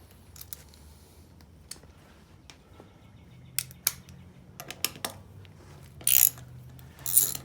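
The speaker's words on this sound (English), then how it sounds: "It's always nice when you get to pull out the old Whitworth sockets." An old Whitworth 5/16 socket on a ratchet working on a Land Rover Series 2A differential, giving sparse, quiet metallic clicks and ticks spread across a hushed workshop background.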